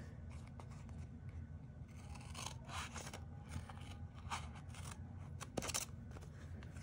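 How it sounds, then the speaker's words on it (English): Scissors snip and slice around a piece of card during a fractured card design project, a series of soft, irregular cutting and scraping sounds close up, quiet against a low room hum. "I'm going to cut around this as well to go ahead and get it out of the way"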